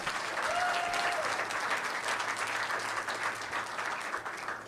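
An audience at a school board meeting claps steadily for several seconds, a moderate, even wash of hands that eases slightly toward the end, with a brief faint whistle near the start.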